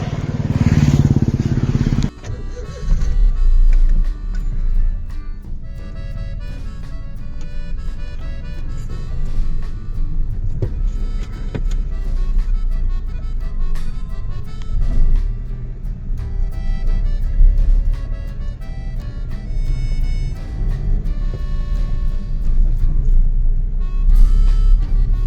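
A WagonR car travels along a highway during driving practice, producing a continuous engine and road rumble from inside the cabin. The drone stays loud and steady, with one heavy thump near the start.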